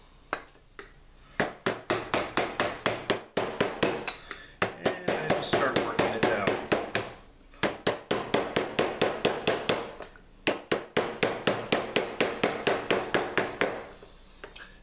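Hammer blows glance off sheet metal shaped over a form held in vise jaws, coming as rapid, sharp, ringing strikes in bursts with short pauses, close and loud, after a brief spoken phrase at the start.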